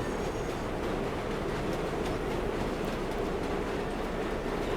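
A train passes in an open-world action game, giving a steady, dense rumble of rolling wagons that holds at an even level throughout, with no voices.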